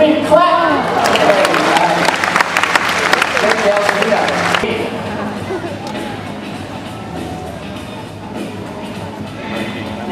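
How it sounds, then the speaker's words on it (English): A crowd claps and cheers loudly for several seconds, then the applause fades into busy background chatter and noise. "great chance for you to give her a big clap."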